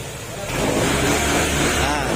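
A Honda PCX150 scooter engine catches and runs after repair, a close, rough motor rumble swelling after half a second and continuing steadily, with people talking over it.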